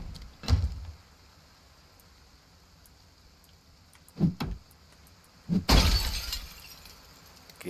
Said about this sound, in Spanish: Quita los cristales rotos y nos vamos, que hemos hecho ruido